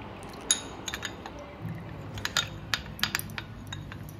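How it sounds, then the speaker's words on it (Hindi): A spoon stirs custard powder into milk in a pot or bowl, giving scattered light clinks and scrapes against the vessel at an irregular pace, fairly faint and close, with no talking. "ये 2 चम्मच डाल के हम इसको मिक्स कर लेंगे ताकि कोई लम्स वगैरह ना रहे"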